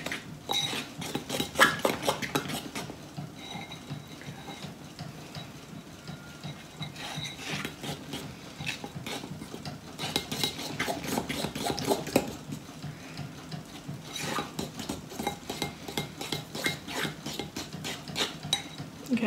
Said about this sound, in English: I'm just gonna mix it in a mush